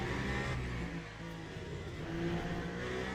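A race car engine at Imola in Le Mans Ultimate, a steady moderately faint drone that dips briefly and then rises again as the car brakes and accelerates.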